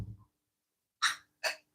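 A pug gives two short, sharp sneezes about half a second apart, close by, after a soft snort at the start; otherwise quiet.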